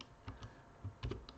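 A computer keyboard is typed on in a short, quiet burst of about six soft, uneven keystrokes, near and alone.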